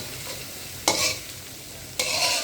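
Red cabbage frying in a pan, a steady close sizzle broken by two loud bursts of stirring and scraping, with no voices.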